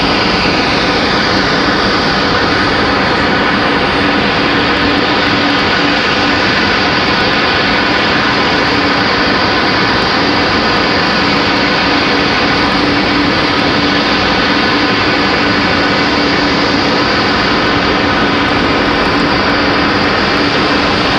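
An American Airlines Boeing 777 jet arriving from London at Raleigh-Durham International, a very loud, sustained engine roar with a steady whine layered over dense rumble, close and unbroken throughout.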